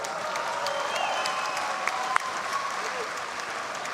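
A packed Dutch gym in Amsterdam roars with steady applause and crowd noise at a FIBA 3x3 World Cup 2019 basketball game, with a few sharp claps and whistles standing out from the sustained din.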